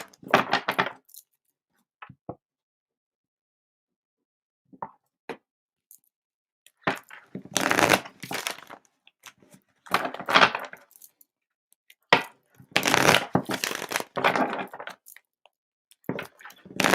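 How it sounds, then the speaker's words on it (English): Bursts of riffling and shuffling playing cards, several separate runs of crisp rapid flutters with quiet pauses in between, close up, no talking. "All right, Taylor, let me get some clearing shuffles in"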